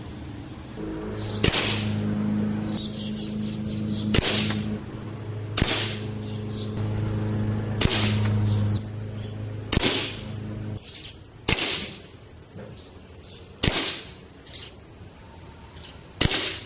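Sharp, close cracks from a pink Crosman 760 Pumpmaster .177 air rifle ring out one by one at uneven intervals, about eight reports in all, with quiet handling and a low hum between shots.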